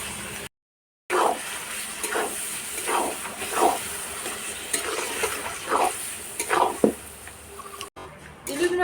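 Boiled black taro and green chillies are stir-fried in a pan with garlic, with a rhythmic series of close spatula scrapes over a constant hissing sizzle, cut by one short silent gap near the start.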